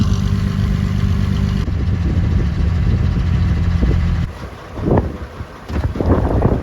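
A large fishing boat passes on the sea off Mumbai, its engine a low steady rumble under heavy wind buffeting the microphone, easing off briefly near the end.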